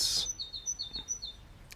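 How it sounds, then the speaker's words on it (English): A small bird sings outdoors among ruins, a quick series of high chirps and tweets in an uneven rhythm, fairly close, with no talk. "I will not write about this bird singing"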